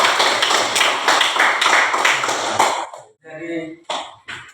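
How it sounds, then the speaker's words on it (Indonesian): A classroom audience claps in a dense burst lasting nearly three seconds, then stops abruptly; a voice speaks briefly afterward amid small taps. "Baik, kita beri tepuk tangan."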